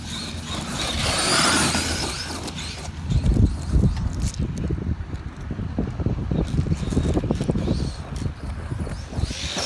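A Traxxas MAXX 4S RC truck driving through grass at a mountain bike park: wind buffets the microphone at first, then comes a close, uneven rumble and swishing thrash of grass as the truck churns along.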